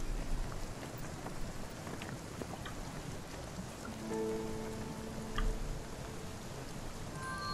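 Soft, steady rain falls in the video game Spiritfarer, a faint continuous patter with scattered drops and a few quiet tonal game chimes, no voices.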